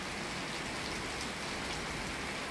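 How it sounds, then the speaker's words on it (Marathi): Heavy night rain falls in Solapur as a dense, unbroken hiss that stays close and even from start to finish. "रात्रीचे 12:30 वाजून गेले तरीसुद्धा पाऊस काही थांबताना दिसत नाही"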